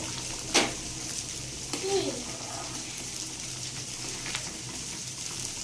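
Salt being stirred into a pot of bubbling Bengali pilaf, with a few soft scrapes and a light clatter of the spoon over a steady low sizzle and simmer.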